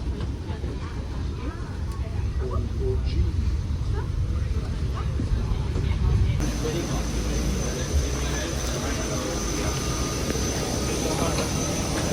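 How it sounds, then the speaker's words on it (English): Cabin of a Singapore Airlines Airbus A350 in regional configuration, with a steady, loud low rumble of engine and air noise throughout that shifts in tone partway through, with no speech. "a 4-year-old Singapore Airlines A350 fitted with the regional configuration"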